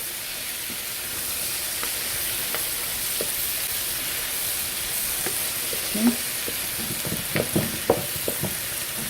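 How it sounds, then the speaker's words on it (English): Fresh-caught catfish sautés in a pan outdoors in the rain, giving a steady, fairly loud sizzling hiss throughout, with a few sharp ticks and pops toward the end. "I'm going to let it saute for 3 minutes"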